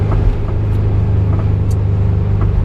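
A classic Porsche 912 drives on the A4 road, a steady low engine drone and road rumble from inside the car, continuous and fairly loud, with no talking.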